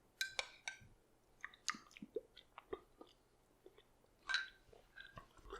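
Someone chews and tastes Zuppa Toscana soup with sausage and kale at a dinner table, making close, irregular wet chewing and crunching bites with small clinks in between.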